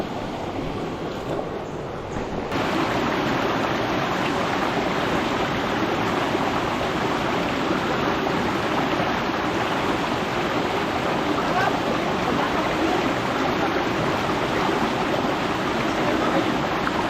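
A river in the Philippines rushes steadily, a dense continuous wash of flowing water filling the whole stretch at even loudness, with a slight shift in tone in the first couple of seconds and no talk.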